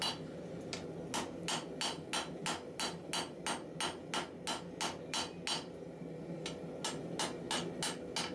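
Hammer flattening cable damascus steel on an anvil rings out in a steady series of sharp metallic strikes, about two per second, with a short pause before resuming, over a low background hum.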